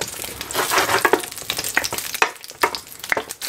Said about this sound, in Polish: Pierwsze, co smażę, to te małe pomidorki i papryczki.